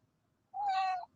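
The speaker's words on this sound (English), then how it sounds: "My black cat." A black cat gives a single clear, close meow of about half a second, rising out of a quiet indoor room with nothing else audible.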